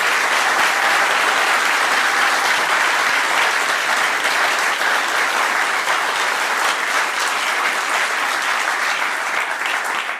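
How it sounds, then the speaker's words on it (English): Dense, steady audience applause for an Edgar Allan Poe character performance, a full room clapping continuously at an even level from start to finish. "Round of applause for Edgar Allan Poe."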